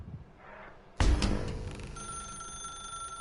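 An old-style telephone bell in The Stanley Parable: Ultra Deluxe starts ringing abruptly after a quiet moment, a loud bright metallic trill that settles into a sustained ringing tone.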